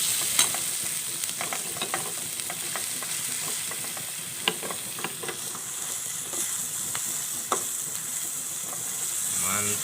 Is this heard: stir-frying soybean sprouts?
yes